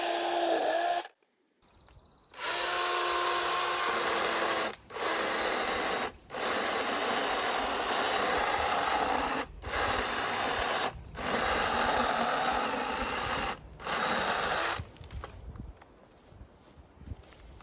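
A Craftsman V20 cordless lopper saw whirs steadily while cutting branches and brush outdoors. The motor runs loud and close in several long bursts, each broken by brief stops, then winds down at the end.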